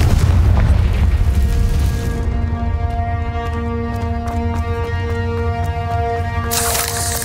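A Confringo spell explosion in Hogwarts Legacy at the High Keep bursts with a loud boom at the start, then rumbles on under sustained tonal game music, with a second brighter burst near the end.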